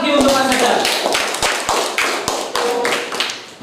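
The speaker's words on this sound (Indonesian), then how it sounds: "Kasih tepuk semangat lagi untuk Mas Adar" Classroom applause for a presenting student, brisk close clapping from a small group of students with uneven rhythm, loud and mixed with some voices.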